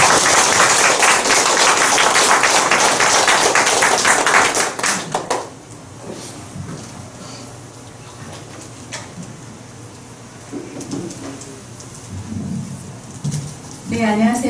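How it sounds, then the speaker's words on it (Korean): Audience at a library author talk applauding a guest writer, a dense burst of clapping for several seconds that fades into quieter room noise with a few scattered claps at the end. "그럼 큰 박수로 신희연 작가님을 모셔보도록 하겠습니다."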